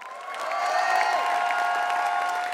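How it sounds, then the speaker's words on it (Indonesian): A packed stand-up comedy audience claps and cheers, the applause swelling quickly then holding steady as a dense, continuous wash of hands filling the hall. "tepuk tangan dong"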